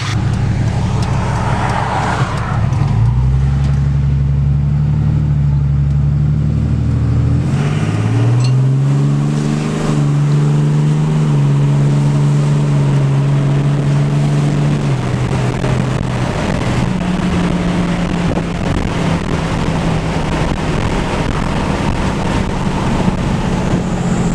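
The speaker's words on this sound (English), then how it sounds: "Exhaust brake sounds pretty good too." A 2008 Ram 2500 with a 6.7 Cummins diesel engaging its exhaust brake, a loud deep droning exhaust note that steps up and down in pitch as the truck slows, with wind noise over the microphone.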